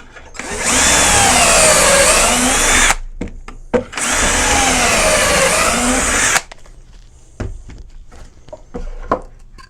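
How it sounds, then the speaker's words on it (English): A power drill drills a pocket hole in wood using a Kreg jig, whining loudly for about two and a half seconds, pausing briefly, then running again for a similar stretch before stopping, leaving scattered clicks and knocks. "and then drill away"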